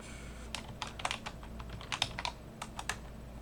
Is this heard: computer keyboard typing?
yes